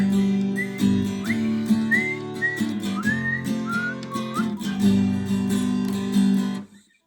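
Whistled melody imitating a harmonica part in a song, a series of clear sliding phrases over steady strummed acoustic guitar chords, ending when the playing stops.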